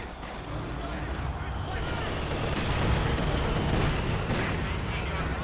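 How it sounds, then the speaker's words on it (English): Katyusha rocket artillery firing in a Company of Heroes 2 match, a dense continuous barrage of rumbling launches and booms holding steady throughout with voice commentary over it. "Katusha's already started to fire."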